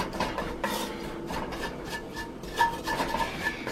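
Flour is scraped and stirred into bacon grease in a pan, a close, gritty rasping with light scrapes and clinks from the utensil against the pan, continuous and fairly quiet.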